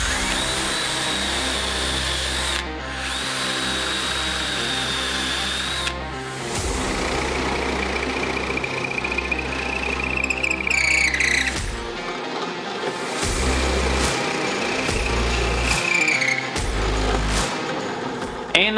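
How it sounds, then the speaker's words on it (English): A drill press bores bolt holes in a metal bracket for a wooden go-kart, its motor whining steadily in long runs with shifting pitch as the bit bites, broken by brief pauses and clunks between holes. "I'm going to move over to the drill press to finish it off."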